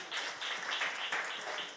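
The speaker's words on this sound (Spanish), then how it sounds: "Un aplauso para ellos también." A church congregation claps in brief, moderately quiet applause with a steady, even patter of hands.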